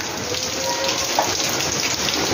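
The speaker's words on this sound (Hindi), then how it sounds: "बहुत तेज़ बारिश हो रही है और ना कपड़े सूख रहे थे वो सारे गीले हो गए।" Heavy rain pouring down outdoors, a loud dense steady hiss of drops hitting surfaces, continuous with no pauses.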